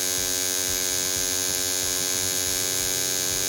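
Two hair trimmers, a VGR 082 and a Kemei 1971, running together in a steady electric hum with dense motor harmonics, close and constant throughout without talk.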